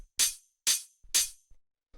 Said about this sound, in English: the last layer we have here is the hi-hat